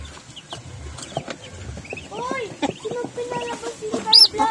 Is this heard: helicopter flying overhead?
no